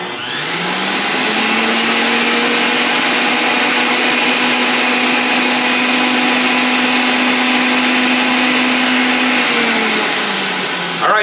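Housnat centrifugal juicer running at speed 2, a loud steady motor whine with a strong sustained hum that spins up at the start and winds down at the end, heard alone with no talking.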